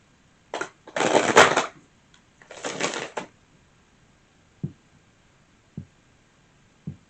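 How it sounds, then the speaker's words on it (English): Two quick riffling bursts of tarot cards being shuffled, followed by a few soft, scattered taps as the cards are set down. "One more shuffle."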